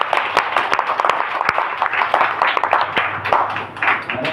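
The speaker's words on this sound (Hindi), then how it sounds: "जोरदार ताली बजाओ अपने आप के लिए।" An audience at a church gathering claps enthusiastically, a dense, continuous patter of many hands close by, loud and sustained throughout with no break.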